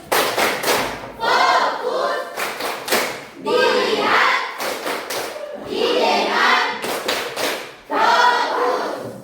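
A class of students performs the rhythmic clapping game "tepuk fokus", loud bursts of quick patterned claps alternating with group chanting, repeated four times in a lively call-and-response pattern.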